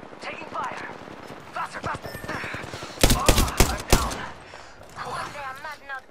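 Gunfire in the Apex Legends battle royale game: several loud, sharp shots in a tight burst around the middle, with more scattered firing after, over game noise and voices talking.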